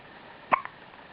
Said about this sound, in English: I think you've got the hiccups.